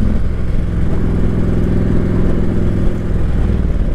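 A 2012 Harley-Davidson Street Glide motorcycle engine running close by, a loud, steady low throb with a slight rise in revs, no talk over it.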